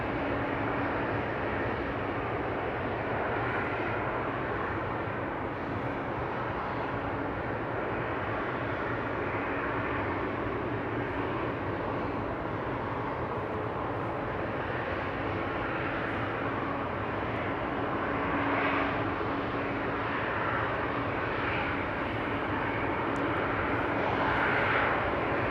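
A SunExpress airliner in Istanbul livery departs Amsterdam Schiphol, its jet engines a steady, broad roar that holds for the whole stretch with no talk.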